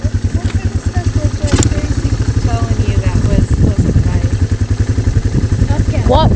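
A quad ATV engine idles and runs nearby with a loud, steady, throbbing putter and occasional revs and clatter, while people talk over it.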